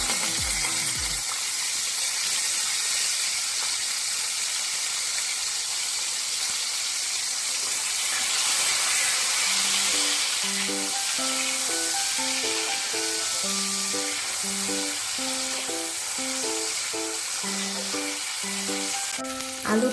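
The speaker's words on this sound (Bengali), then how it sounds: "আলুটা হালকা করে ভেজে নেব।" Potatoes fry lightly in oil in a kadai, a steady broadband sizzle running throughout alongside a tuned melodic background; no talk.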